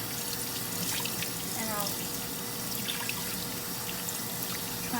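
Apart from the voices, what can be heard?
water running from kitchen tap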